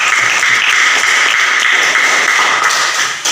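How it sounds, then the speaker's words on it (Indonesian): Applause from a class of junior high students fills the room, a dense steady patter of many hands clapping at full volume with no talk over it. "Tepuk tangan."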